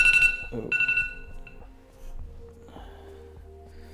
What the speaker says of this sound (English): That's my alarm for the 10K.